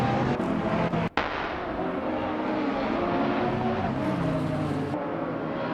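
A 2009 Morgan Aero Supersports race car in a racing video game, its engine holding a loud, steady droning roar throughout, with one sharp click near the start and no talking.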